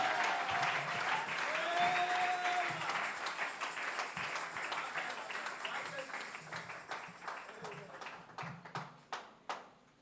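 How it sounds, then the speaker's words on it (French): A church congregation applauding during a service: sustained clapping that thins out toward the end into a few separate, spaced claps, with a voice speaking over it and a brief sung note. "On peut applaudir une fois de plus pour les frères Daniel."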